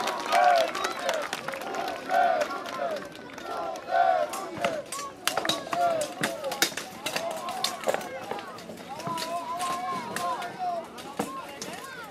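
Crowd at a two-on-two combat tournament applauding and cheering in bursts, with sharp clashes and shouted calls mixed in, fairly loud and continuous throughout.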